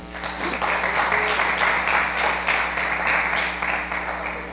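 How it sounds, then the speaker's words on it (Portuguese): Congregation applauding during a church service, a loud, sustained roar of clapping with voices and shouts mixed in over a low steady hum. "Aplauda o Senhor."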